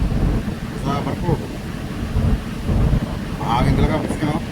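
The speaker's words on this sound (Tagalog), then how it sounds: "Hangin sa bubong ng bus sa barko." Strong wind buffets and rumbles against the microphone on a bus roof aboard a ferry, gusting unevenly, while a person's voice is heard faintly in short bursts under it.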